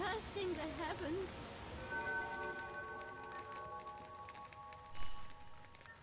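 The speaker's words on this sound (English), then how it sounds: "It rains and it pours." Rain patters steadily across an outdoor scene in The Witcher, with a musical tone sustained over it and a brief louder splash near the end.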